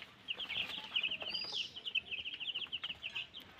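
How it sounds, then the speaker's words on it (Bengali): Broiler chickens in a cage keep up a faint, rapid stream of high peeping and clucking, with a few louder calls rising and falling. "মুরগিগুলো এখানে আমি পালতেছি এই খাঁচার ভিত"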